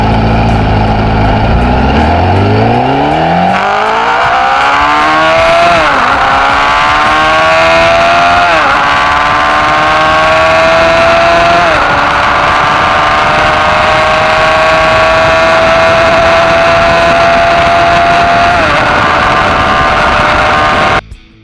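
A Honda CBR 1000F motorcycle engine revs up from low to a loud high-pitched scream, shifting gears in a few quick dips before holding a steady roaring whine.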